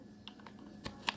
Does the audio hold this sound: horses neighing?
no